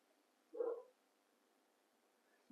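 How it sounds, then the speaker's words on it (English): A small dog gives one short bark in a quiet room, followed by silence and the start of another bark right at the end. "Little dog bark"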